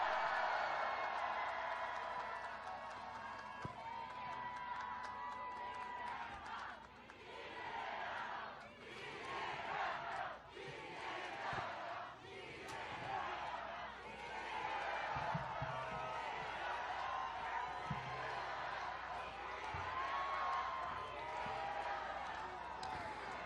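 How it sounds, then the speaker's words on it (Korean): A crowd at an outdoor election rally for Lee Jae-myung in Eunpyeong, Seoul, sends up a sustained roar of cheering and shouting, loud and dense throughout, with voices swelling and falling in waves. "뜨거운 함성 부탁드리겠습니다."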